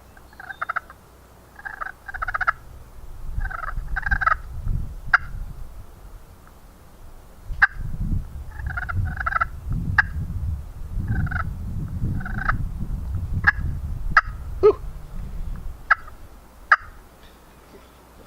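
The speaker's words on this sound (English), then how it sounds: "This is a purr cluck for me." Soft rolling purrs broken by sharp, clucking chirps from a slate friction turkey call, repeated in short bursts over a low rumbling background, close and fairly loud.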